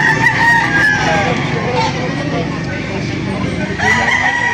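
A rooster crows loudly and repeatedly at a poultry auction market in Lipa City, its calls rising over the steady crowd murmur and other birds.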